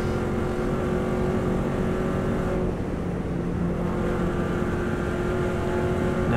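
A Subaru race car engine drones loudly and continuously in 6th gear while drifting wide on a flat-out lap, a steady high-revving roar with a brief dip midway.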